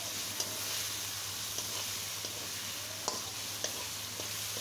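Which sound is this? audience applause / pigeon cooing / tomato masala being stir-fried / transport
tomato masala being stir-fried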